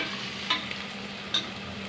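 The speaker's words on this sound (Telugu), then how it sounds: "ఆయిల్లో మంచిగా ఫ్రై కావాలి." Chicken pieces fry in hot oil for a pressure-cooker chicken curry, giving a steady, moderate sizzle with two brief stirring scrapes, no voices.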